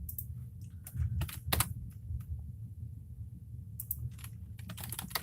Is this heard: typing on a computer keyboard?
yes